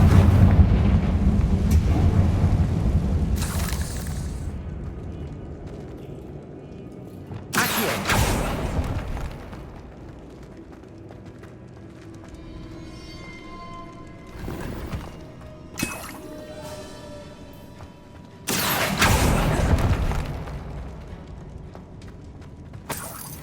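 Confringo blasts fired in Hogwarts Legacy land as sharp, booming bursts with crackling tails, several loud hits spaced seconds apart, with rumbling and quiet ambience in between.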